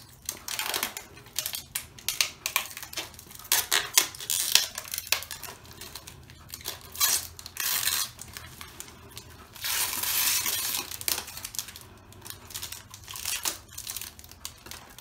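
Cardboard and plastic packaging from an Xbox One S box is cut and torn open close by, giving bursts of crinkling, scraping and ripping with short pauses between them.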